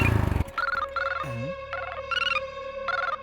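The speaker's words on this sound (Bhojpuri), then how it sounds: "रुका फोन आवता।" A phone ringtone plays a repeating melodic electronic tune in short bursts, loud and close, following a brief low rumble at the start.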